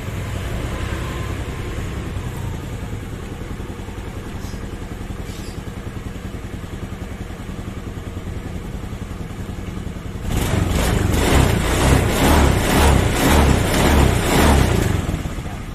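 A motorcycle engine idles steadily during a battery charging test with a multimeter on the battery, then is revved hard into a louder, sustained roar for the last several seconds.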